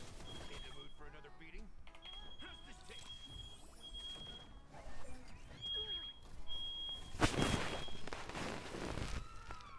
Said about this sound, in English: my family is cooking something and made the smoke detector go off.